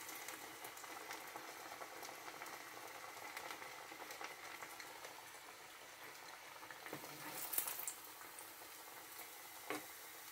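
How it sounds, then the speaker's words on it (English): Potato kofta frying in hot oil, a steady soft bubbling sizzle that stays even and fairly quiet throughout with a few faint clinks, and no talking. "The oil is hot."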